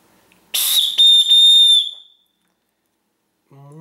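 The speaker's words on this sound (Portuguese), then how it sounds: "Um pequeno apito de sobrevivência." A small survival whistle from a mini survival kit gives a loud, piercing shrill blast, briefly broken into two or three bursts, then stops, and a voice starts speaking right after.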